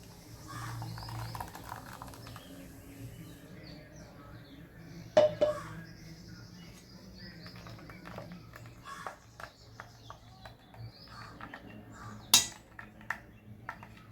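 Utensils clink and knock faintly while coconut milk is strained for solkadhi, a few sharp metallic taps standing out over a quiet kitchen background.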